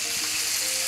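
Meat with orange frying in a skillet as its liquid cooks off, a steady bright sizzle with faint crackle, close and continuous with no talking.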